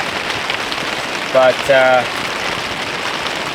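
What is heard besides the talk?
rain falling on a hot tent in a forest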